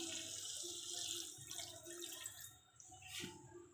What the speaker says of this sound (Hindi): अब हम इसमें 1/2 कप पानी ऐड करेंगे।